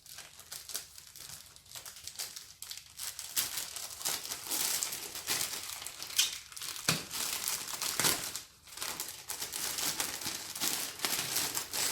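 An HP Spectre x360 silver laptop slid out of its protective sleeve during unboxing, giving steady close crinkling and rustling of packaging material with soft scraping, continuous throughout with no talking.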